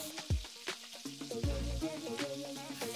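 Coriander powder and biryani masala are stirred in sizzling hot oil, giving a soft crackling fry broken by a few quick scraping stirs of the spoon.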